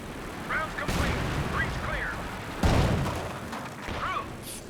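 Artillery barrage explosions from a close-range barrage in Company of Heroes 2 land in two heavy booming bursts among crackling battle noise, while a commentator talks over the action.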